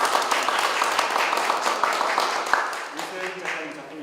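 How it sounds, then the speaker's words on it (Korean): An audience at a gallery exhibition event claps in a dense burst of applause for about three seconds, then a voice begins talking as the clapping fades. "박수 부탁드립니다"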